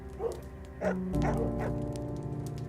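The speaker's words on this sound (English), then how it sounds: "Nothing is heard but the sounds of Max and Chloe's muffled barks filling the nighttime air" A few muffled, yippy dog barks sound in quick succession over a low rumbling background, then the barking stops.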